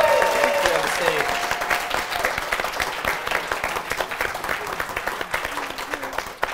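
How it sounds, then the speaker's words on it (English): An audience at a bachelorette show on stage gives a big round of applause for two gentlemen, dense sustained clapping that starts loud and tapers slightly, with voices mixed in. "Big round of applause for our two gentlemen here on the stage."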